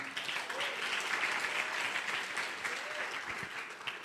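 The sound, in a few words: audience applause in church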